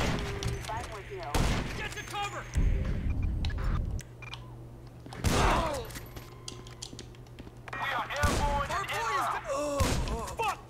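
Gunfire in the video game GTA 5: several sharp bursts of shots in separate clusters, loud and close, with someone talking excitedly in Portuguese between and over them.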